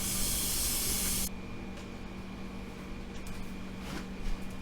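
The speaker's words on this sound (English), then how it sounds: "we'll go ahead and kick that up and fill it back up for the rinse cycle" Water runs into a Panda washing machine as it fills for the rinse cycle. A loud spraying hiss cuts off abruptly after about a second and gives way to a quieter, steady trickle and hum.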